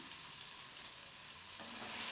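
Small chillies sautéed in a pan while cooking a sundakkai (turkey berry) thovayal, a soft steady sizzle with light stirring that grows slightly louder toward the end.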